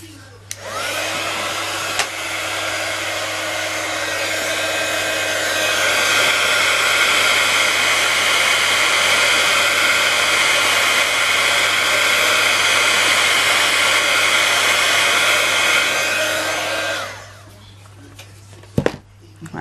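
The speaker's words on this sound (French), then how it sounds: "Après, je prends le pistolet chauffant." A heat gun blows steadily for about seventeen seconds as a loud, close, continuous rushing roar, rising slightly in intensity midway, then cuts off, followed by a couple of sharp taps.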